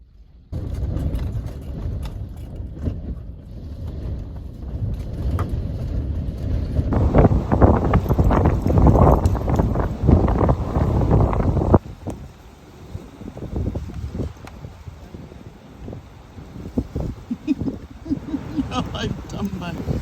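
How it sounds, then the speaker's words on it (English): Strong wind buffets the microphone in heavy rumbling gusts on Scotland's NC500 route, surging loudest midway, with rustling and a vehicle-like drone underneath from a van. "Gotta be honest, it's a bit windy."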